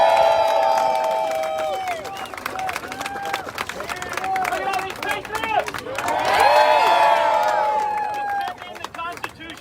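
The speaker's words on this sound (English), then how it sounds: "round of applause for Mr. Rick Green, please." A rally crowd at a Memorial Day event in Chicago cheers, whoops and claps for an introduced guest, with loud rising shouts swelling twice amid scattered clapping and voices close by.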